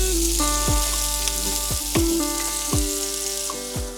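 Meatballs fry in oil in a pan with a steady, close sizzle. Several short tonal swoops and faint clinks pass over it at regular intervals.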